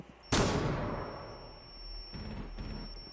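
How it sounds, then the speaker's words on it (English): A flashbang grenade in Rainbow Six Siege goes off with one sharp, loud bang that decays over about a second, leaving a steady high ringing tone with faint thuds afterward. "Flashbang out."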